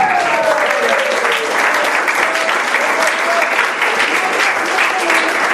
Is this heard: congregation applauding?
yes